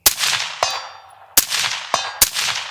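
M1A EBR rifle bullets in 6.5 Creedmoor hitting steel targets at a range, five sharp metallic clangs with ringing decay, irregularly spaced, fairly loud and carried from a distance, with no talk.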